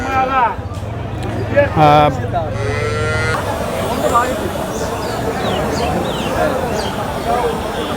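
Cattle being sold for Qurbani moo loudly nearby amid a busy crowd at Mirganj cattle market in Bangladesh, with people talking throughout and a steady murmur of voices and animal noises in the background.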